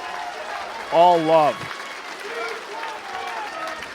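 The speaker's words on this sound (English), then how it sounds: "Listen to this crowd." A professional wrestling crowd at a Limitless Wrestling show applauds in a continuous wash of clapping and cheering, while a commentator's voice talks loudly over it in the foreground.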